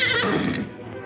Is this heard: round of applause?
no